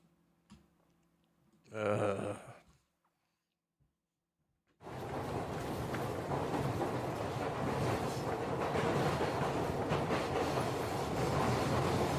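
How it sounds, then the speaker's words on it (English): An Inter-Region Express train in the video game Panzermadel rolls along the tracks, a steady loud rumble with rhythmic clatter that begins abruptly after a brief sound and a stretch of silence, then continues unbroken. "the train rolling along the tracks makes rhythmic patterns as you sit on the soft seats of the Inter-Region Express"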